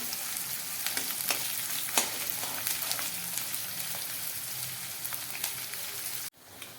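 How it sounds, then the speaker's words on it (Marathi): Green chillies, onion and ginger-garlic paste fry in oil for veg dum, a steady close crackle broken by sharp spatters and spoon taps, ending in an abrupt drop to near quiet. "आलं आणि लसणाची पेस्ट छानपैकी आलं लसूण या ठिकाणी तेलामध्ये फ्राय होऊन द्यायचं आहे"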